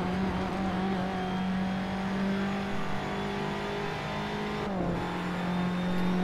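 Race car engine in Assetto Corsa, a steady mid-pitched drone held at near-constant revs, dipping briefly with a gear change before settling back, alone and moderately loud throughout.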